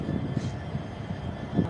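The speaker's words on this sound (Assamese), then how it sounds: "আৰু আমি গুৱাহাটী ৰেলৱে ষ্টেচনত আছোঁ" Guwahati railway station with a train present, a low, rumbling rail hum with irregular clanks and thuds at moderate distance, steady throughout with no clear speech.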